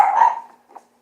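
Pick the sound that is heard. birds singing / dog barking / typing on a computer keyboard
dog barking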